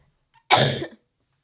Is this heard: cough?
yes